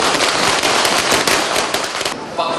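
Dense, loud barrage of firecrackers exploding nonstop during a New Year celebration in Tondo, overlapping bangs and crackles filling the air, easing slightly near the end.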